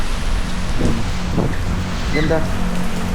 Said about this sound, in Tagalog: Medyo bumuhos yung ulan eh.